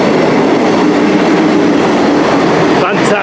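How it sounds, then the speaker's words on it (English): A Class 158 diesel multiple-unit train arrives, rumbling loudly and steadily nearby, with a dense mechanical roar and faint rhythmic clatter throughout. "Here comes my train."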